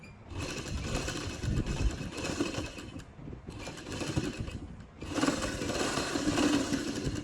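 A sewing machine runs a line of stitches in two continuous bursts with a short pause between, a steady close mechanical whir with no talk over it.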